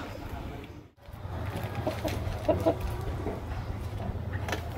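A native chicken clucks in soft, scattered bursts at moderate distance, over a steady outdoor background hum with faint murmuring nearby.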